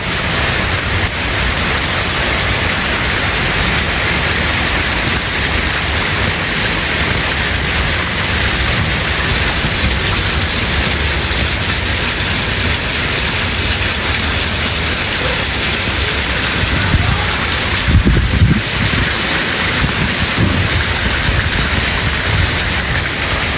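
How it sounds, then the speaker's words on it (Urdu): A heavy rainstorm pours down steadily on Islamabad streets, a dense, continuous roar of rain that stays loud throughout, with a brief low rumble swelling near the end and no voices. "انتہائی تیز طوفان اسلام آباد میں"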